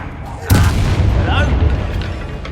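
A Confringo fire spell in the video game Hogwarts Legacy on PS5 detonates as a single loud, sudden boom, followed by a rumbling tail, with a voice heard around the blast.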